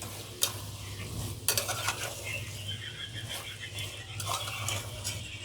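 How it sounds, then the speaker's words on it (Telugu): Masala frying for a liver curry, with a steady sizzle in the pan and repeated stirring scrapes and clinks close by, a few sharper strokes standing out; no talk. "మసాలా ఫ్రై చేసుకుందాం."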